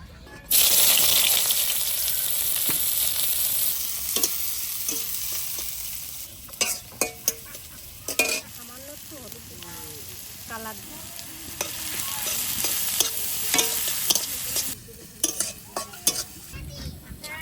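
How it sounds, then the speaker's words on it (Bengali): Onions frying in mustard oil in a karai (wok), a loud close sizzle that gradually quietens and is broken by repeated clinks and scrapes of a spatula stirring against the pan. "পেঁয়াজটা ভেজে নেবো আলু সেদ্ধ মাখানোর জন্য"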